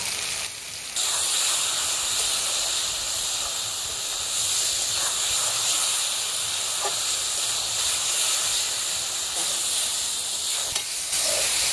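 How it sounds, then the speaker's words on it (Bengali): Spice paste for a spicy rohu fish curry with tomato fries in a pan, giving a continuous loud sizzle and hiss with soft stirring scrapes throughout. "মশলাটা কষিয়ে নেওয়া হয়ে গেছে"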